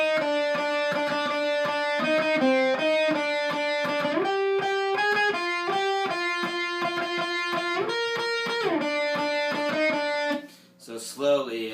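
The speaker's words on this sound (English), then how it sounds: "the overdubbed chorus part that sounds like this" A distorted electric guitar plays an overdubbed chorus part, ringing sustained chords that shift in a steady pattern, ending with a brief scrape and clatter of strings.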